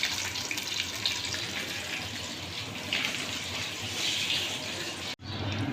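Eggplant pakoras fry in hot oil with a dense, steady sizzle and crackle throughout, close and fairly loud, cutting off abruptly near the end before resuming briefly.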